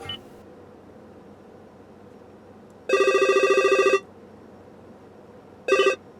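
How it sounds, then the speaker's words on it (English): A trilling electronic ringtone from a 2019 Toyota Entune 3.0 car infotainment system sounds for about a second, then silence, then a shorter burst of the same ring, clear and close. "Clicking into sounds, you have several different ringtones to pick between."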